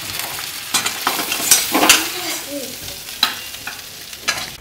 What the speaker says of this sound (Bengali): আমার এই ইলিশ মাছের তেল ভাজাটা হয়ে গেছে